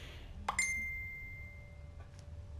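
A phone notification rings out as one bright, clear ding that hangs with a long, ringing decay, followed by a fainter second chime, over low background noise.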